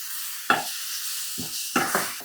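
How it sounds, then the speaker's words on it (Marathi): A ground paste of tomato, ginger, garlic, soaked cashews and dried red chillies sautéing in oil for paneer butter masala, with a soft steady sizzle broken by a few sharp spatula stirs and scrapes. "आणि किमान 4 ते 5 मिनिट तरी हे टोमॅटो चांगलं या तेलावर परतून घ्यायचं"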